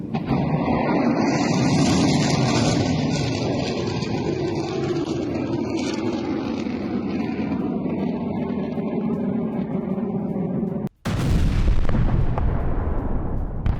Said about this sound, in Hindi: ब्रैडली फाइटिंग व्हीकल से रूसी सेना पर अटैक विद द वीडियो।